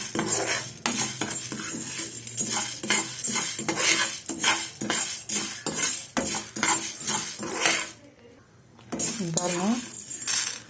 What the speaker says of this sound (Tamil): பாருங்க, ரோஸ்ட் ஆகுது பாருங்க